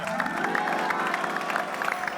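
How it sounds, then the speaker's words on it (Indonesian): A studio audience on an Indonesian game show claps for both contestants, a steady crowd patter of hands with a faint cheer mixed in, over a sustained background hum or music bed. "Tepuk tangan buat keduanya keren."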